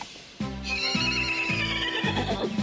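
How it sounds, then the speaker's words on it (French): A horse in a French animated musketeer adventure whinnies loudly and close, a long harmonic neigh with rhythmic pulses, set over steady music-like tones. "Albert, peut-être la corde du cheval qui est sous vous."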